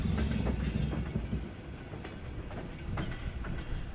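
A train approaching a passenger station in Kazakhstan rumbles and clatters steadily on the rails, wheels clicking over joints with occasional faint squeals as it rolls along.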